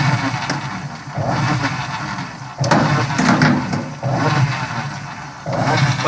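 Electrolux washing machine with a broken capacitor wire, its motor running noisily. A loud, rough churning comes in surges separated by brief dips, close up and with no talk.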